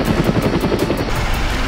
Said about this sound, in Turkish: helikopter gelmek üzereymiş